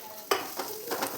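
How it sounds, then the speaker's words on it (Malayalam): Grated coconut roasts in a pan for erissery, with a couple of soft scraping stir strokes over a faint sizzle; brief, close and quiet. "ഇതിലേക്കാണ് നമ്മൾ തേങ്ങയിട്ട് വറക്കാൻ പോകുന്നത്"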